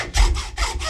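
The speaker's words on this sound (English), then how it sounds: "And I just use a hacksaw." A hacksaw cuts a kerf in a wooden axe handle with two close, rasping back-and-forth strokes.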